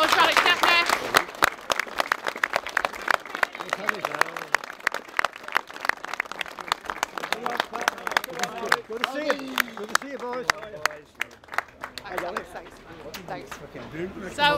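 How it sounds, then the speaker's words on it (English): Outdoor crowd applause for a Manchester United former goalkeeper at a street unveiling of a Munich memorial mural, sharp individual claps in an uneven rhythm with voices mixed in, thinning toward the end. "Big round of applause for Alex Stepney"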